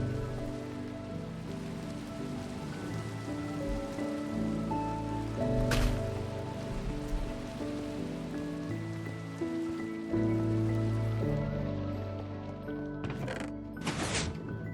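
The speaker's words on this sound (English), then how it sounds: "Also, can I sleep through this rain?" Steady rain patters on a surface throughout, a continuous soft hiss with a few brief clicks and bumps near the end.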